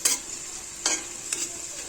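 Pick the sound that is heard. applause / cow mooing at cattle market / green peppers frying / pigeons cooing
green peppers frying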